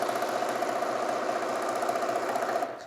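A sewing machine runs steadily, stitching strips of quilting fabric together for a quick patchwork heart quilt. Its fast, even whirring continues loud and close for almost the whole stretch, then stops near the end.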